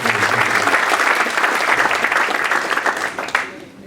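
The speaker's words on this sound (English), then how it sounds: "So can we just give them a round of applause?" An audience at a medical camp applauds the photographers. The clapping is dense and steady for several seconds before tapering off at the end.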